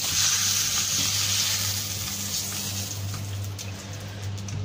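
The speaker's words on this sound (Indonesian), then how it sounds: "Kita goreng, angkat," Duck pieces deep-frying in hot oil for a Hong Kong style duck and winter melon soup, a steady dense sizzle with a low bubbling hum throughout, close and continuous with no speech.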